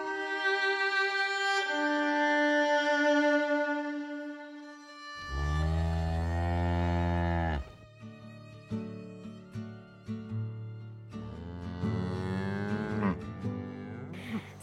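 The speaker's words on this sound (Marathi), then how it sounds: "सकाळची वेळ आहे आणि मी गायींच्या गोठ्यात आली आहे" Cows moo in a cow shed at a goshala on an agro-tourism farm in a quiet village in the morning, several long, loud, deep calls overlapping one another, close by and with no talk.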